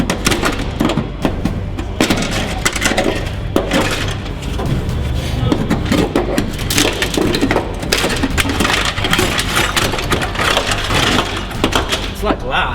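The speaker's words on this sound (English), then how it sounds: "As you can see now, it's just coming off again on this side, just breaking off" Brittle car sound deadener, frozen with dry ice, cracks and breaks off in sheets under a chisel, producing rapid, loud, glassy crunching and snapping that continues throughout, close to the microphone.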